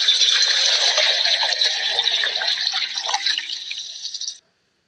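A water and sand mixture pours through a strainer in a loud, continuous splashing, trickling rush that gradually thins and then stops abruptly.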